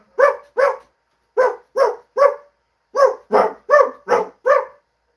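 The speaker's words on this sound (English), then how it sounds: "They bark the chorus of Jingle Bells." Dogs on a recording bark the chorus of Jingle Bells, ten loud, close barks grouped in a clear melodic rhythm, two, then three, then five, with silent gaps between.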